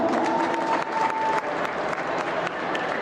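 A crowd claps for graduating seniors at a high school swim senior night meet, steady sustained applause filling the space with a faint voice beneath.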